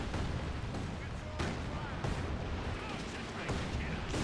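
Rocket artillery barrage in the strategy game Company of Heroes 2, a dense continuous wash of rumbling blasts and booms with sharper impacts every second or so, loud throughout while a caster talks over it.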